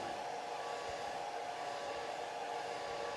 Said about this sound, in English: I'll dry this a little bit here.